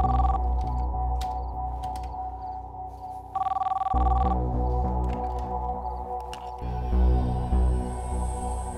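A telephone rings in a domestic drama scene, repeated electronic ringtone bursts with tonal warbling and a steady hum beneath, loud and close, with no talk.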